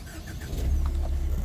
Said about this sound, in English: this is how you start your car